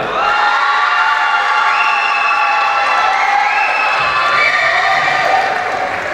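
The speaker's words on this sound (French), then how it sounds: "applaudissements pour Verena" A crowd at the Miss Oise 2022 pageant cheers and whoops for candidate number nine, Verena, a loud sustained roar with high shouts and scattered claps running unbroken.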